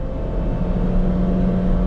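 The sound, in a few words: Honda Brio Satya car accelerating to overtake truck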